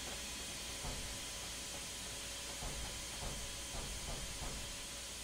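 Steady steam hiss from a steam locomotive in the train simulator Railworks, with soft rhythmic chuffs or rail clicks under a faint, continuous roar, with no voices.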